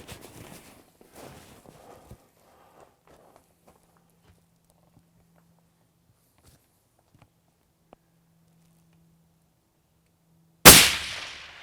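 Gunshot at outdoor shooting practice for a hunter match: a single sharp, loud crack near the end after a quiet stretch of faint movement, shuffling and a low hum.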